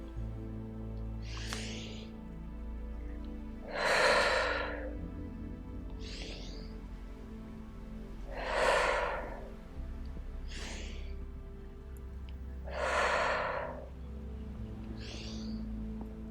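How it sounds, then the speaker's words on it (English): Slow, deep breaths during a guided calming exercise: three long, loud exhales swell at even intervals, with softer inhales between them against a faint low background. "Inhale. Exhale. Inhale. And exhale."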